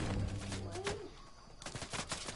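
Video game gunfire, a quick burst of sharp shots at low volume, followed by further scattered bursts after a short pause.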